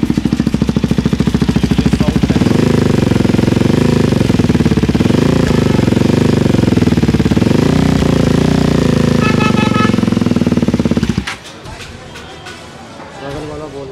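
A KTM Duke 390 gen 3 with an aftermarket exhaust and its dB killer removed revs loud and raspy close by, a sustained blat with pitch swells, then drops abruptly to a quieter idle near the end.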